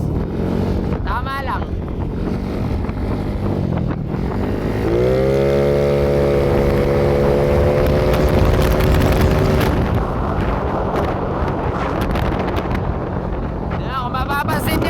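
An Ashtine hybrid M3 motorcycle with a CVT idles at low RPM, its engine a steady droning hum under heavy wind buffeting, with a person speaking briefly.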